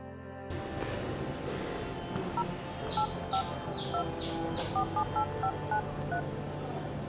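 A telephone keypad is dialed, a series of short two-tone beeps in an irregular rhythm over a steady low background hum, with no talk.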